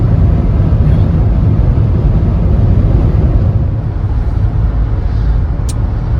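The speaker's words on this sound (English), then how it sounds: "here we are driving along." Steady, loud low rumble of a car driving along a highway just past Quebec City, with engine and road noise droning evenly and no talk.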